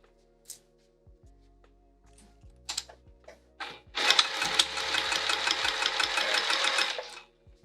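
Sewing machine top stitching a fabric sling: a few scattered clicks and handling taps, then a loud, close, continuous burst of rapid mechanical stitching lasting about three seconds before stopping.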